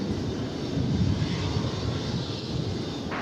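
An American Airlines jet lifts off from runway 18 left at Dallas Fort Worth airport, a broad, steady roar that holds loud throughout without pauses.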